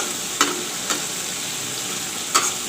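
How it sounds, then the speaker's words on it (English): Tomatoes simmering in a pan for a rohu fish masala curry, giving a steady soft sizzle with a few faint stirring clicks. "I will let the tomatoes cook"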